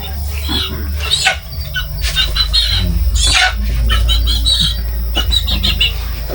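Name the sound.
chicken sounds during a ritual on Mount Kitanglad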